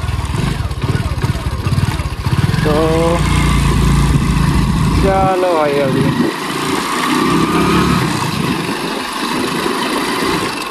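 A push-started motorcycle engine runs close by with a steady buzzing putter, partly under a man's speech; the engine drops away abruptly about halfway and comes back fainter.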